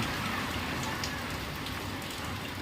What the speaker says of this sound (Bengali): একবার জোর একবার আস্তে বৃষ্টি হচ্ছে।